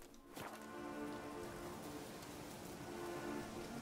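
Rain patters softly in The Witcher 3: Hearts of Stone, a faint steady wash of drops with a low tonal background and a brief rustle near the start.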